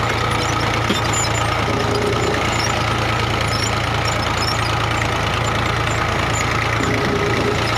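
A brick making machine runs right up close, its engine giving a loud, constant low idle with a steady mechanical drone and occasional knocks, with no talk.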